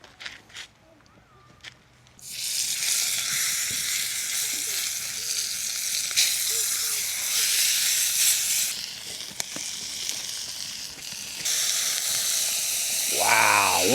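A New York strip steak sizzles loudly while searing at a rainy campsite, a dense continuous hiss that begins abruptly after a few quiet seconds and carries on with small pops and shifts in intensity.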